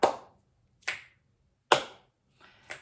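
Four sharp, separate hand sounds, claps and finger snaps, spaced roughly a second apart, close and crisp in an otherwise quiet room.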